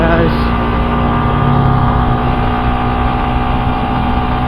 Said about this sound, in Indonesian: Teriak-teriak guys motornya guys